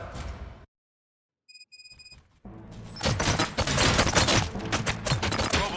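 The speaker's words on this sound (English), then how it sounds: "Gunshots?" Gunfire from the video game Robocop Rogue City bursts out in dense rapid volleys after a brief silence and a few electronic beeps, loud and sustained to the end.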